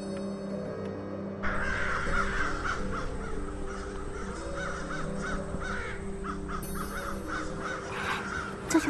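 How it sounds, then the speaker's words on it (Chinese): Crows caw repeatedly and loudly over a steady background din, several harsh calls in a row, with no talk in between. "那多媒体播放出来的乌鸦扰乱宣誓时，这个场面真实的出现了"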